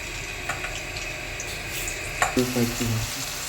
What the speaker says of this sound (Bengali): তেলটা গরম হতে একটু গরম হতে এতে কেটে রাখা আলুগুলোকে ছেড়ে দেবো